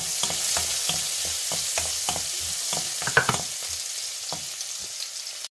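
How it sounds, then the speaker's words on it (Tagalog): Onion frying in a little oil in a wok while pansit bihon and canton are cooked, a steady close sizzle broken by repeated clacks of a spatula stirring through the pan. "Lagay na natin yung ating onion"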